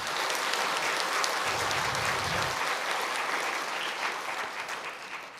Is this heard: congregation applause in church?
yes